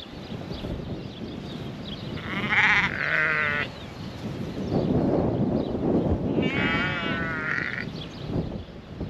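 Black sheep on a farm bleat twice in clear, fairly close calls, with steady outdoor rustle and flock movement continuing between them.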